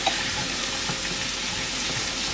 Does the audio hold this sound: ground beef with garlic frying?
yes